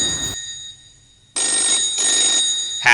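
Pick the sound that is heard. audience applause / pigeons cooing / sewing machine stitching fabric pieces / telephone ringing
telephone ringing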